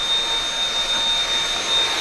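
A vacuum cleaner drones steadily and loudly while cleaning the outside of a Dyson HP02 hot and cold air purifier fan, with a thin high whine running through the continuous airflow noise.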